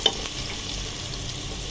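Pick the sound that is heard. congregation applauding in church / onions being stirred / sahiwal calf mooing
onions being stirred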